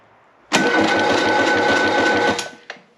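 A Perkins diesel in a Gehl 4610 skid steer cranks hard for about two seconds with a loud, rapid rhythmic chugging, then winds down without catching, followed by a brief clunk.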